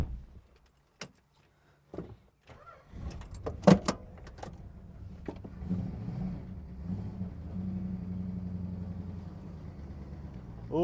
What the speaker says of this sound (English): I'm going to fire the car up and see if this thing will go forward